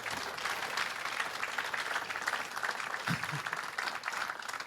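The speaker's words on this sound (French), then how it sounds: "Vous pouvez l'applaudir, s'il vous plaît" A theatre audience at a comedy show applauds in a dense, continuous wash of clapping that stays fairly soft and even throughout.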